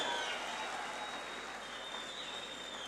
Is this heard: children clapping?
yes